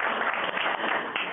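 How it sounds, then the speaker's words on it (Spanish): Audience applause fills a seminar hall, a dense steady wash of many hands clapping together throughout, moderately loud with no voices over it. "A don Jorge Hernández, eso, aplauso merecido."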